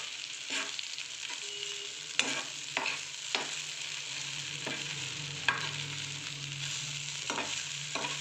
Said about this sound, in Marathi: आता आपण याच्यात इडली टाकून घेऊया आणि व्यवस्थित त्याला मिक्स करून घ्यायचं आहे